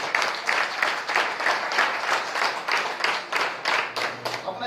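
Audience applause at a DXN India gathering, a sustained round of clapping with rhythmic surges swelling and easing across the whole stretch, fairly close and filling the room with no talk over it.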